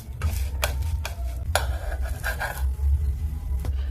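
Sweet potato cinnamon pancake bites frying in a pan, a steady low sizzle and crackle of fat with sharp metallic scrapes and stirring clicks of utensil against the pan, close and alone.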